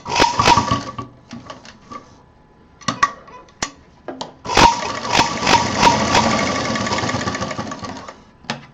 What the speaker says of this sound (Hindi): फिर उसी सिलाई पर वापस चलते हुए दूसरी तरफ, जिससे कि हैंडल हमारा मजबूत हो जाए